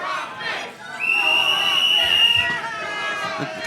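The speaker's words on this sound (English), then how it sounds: "What are you blowing a whistle for?" At a live wrestling show, a coach blows one long, shrill whistle blast that holds for more than a second over crowd noise and commentary, followed by a shorter chirp.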